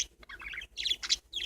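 Pet parakeets chirp in quick, bright bursts, several short tweets and warbles close by and fairly soft, with brief gaps between calls.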